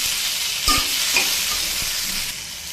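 Thinly sliced potatoes and mixed vegetables frying in oil in a pan on a gas stove, a continuous dense sizzle with a couple of soft knocks from a utensil, and no voices.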